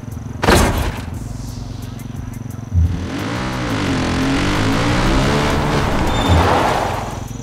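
A car rolls along under drive assist in Far Cry 5, its engine droning steadily and swelling as it accelerates, with a sharp knock near the start and bumps along the way while someone talks over it.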